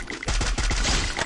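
Gunfire from a mobile shooting video game played on the BlueStacks 4 emulator: a rapid burst of several loud shots in quick succession, sharp and close, with no talk over them.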